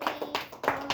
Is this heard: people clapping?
yes